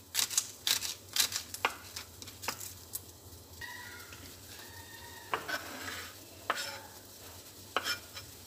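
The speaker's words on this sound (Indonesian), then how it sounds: "Aku mau tumis lada garam." Chilies with pepper and salt sizzle and get stirred in a frying pan, with sharp spatula scrapes and clinks repeating irregularly over a steady hiss.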